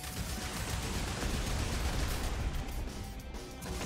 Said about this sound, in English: Yeah, rocket launcher time.